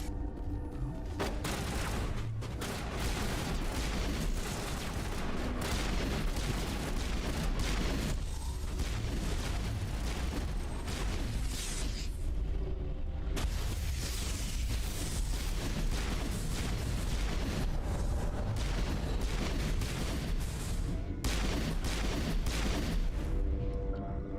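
A sustained firefight in the video game Mass Effect Legendary Edition at Peak 15, with continuous dense gunfire and booming impacts at a steady, loud level for the whole stretch and no clear pauses.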